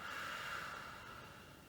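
A child's slow, deep breath during a yoga breathing exercise, a faint, soft airy rush of exhaled air that gradually fades over a couple of seconds.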